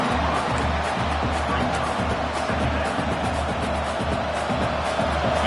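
Football stadium crowd roaring steadily for the defense during a red zone stand at Texas A&M, a dense continuous wash of noise with a low rhythmic thumping underneath, loud and sustained throughout.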